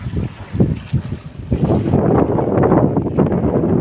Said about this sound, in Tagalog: medyo malakas yung hanging amihan